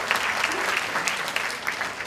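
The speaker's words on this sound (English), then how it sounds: "Give a round of applause." An audience at a leadership workshop at a Hong Kong conference breaks into applause, a close, dense patter of clapping hands with crisp individual claps, steady and moderately loud from start to finish.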